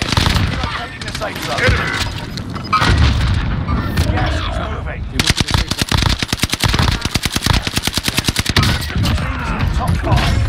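In a video game, a grenade bursts with a heavy boom, followed by a rapid, loud stream of gunfire shots, with voices shouting over the combat noise.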